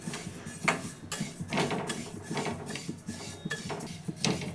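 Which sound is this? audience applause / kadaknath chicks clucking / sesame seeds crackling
sesame seeds crackling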